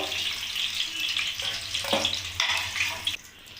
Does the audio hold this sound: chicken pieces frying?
yes